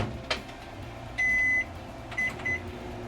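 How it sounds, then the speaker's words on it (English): A running microwave heating granola ingredients hums under room noise, with a long high beep followed by two shorter beeps as buttons are pressed. "put it in microwave for 1 minute"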